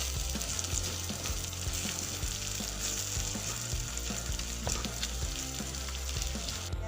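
Bay leaves and panch phoron with ginger and garlic sizzle steadily in hot oil for a Koldil bhaji, a dense continuous crackle with occasional louder pops and soft stirring scrapes, close and without voices.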